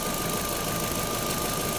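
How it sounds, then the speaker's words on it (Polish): An Opel engine running with a faint ticking from the variable valve timing gear, likely caused by an oil feed problem, heard as a steady, close mechanical hum with an even tone throughout. "słychać, że tam ma lekki problem z podawaniem oleju prawdopodobnie, no i dlatego go tam słychać na kole w zmiennych fazach rozrządu"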